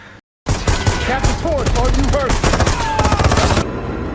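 Rapid bursts of gunfire crackle continuously with whizzing ricochets, loud and close, after a brief silent gap at the start.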